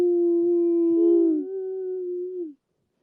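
A person imitates a brachiosaur roar with a single drawn-out, low, howling vocal tone lasting about two and a half seconds, loud and close, ending abruptly in silence.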